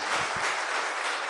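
A church congregation claps together in a dense, continuous burst, filling the room evenly, with two soft low thumps near the start.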